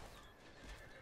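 A horse neighs in the medieval combat game War of the Roses: Kingmaker, a short, faint whinny lasting about a second with a hint of hoof clatter and no voices over it.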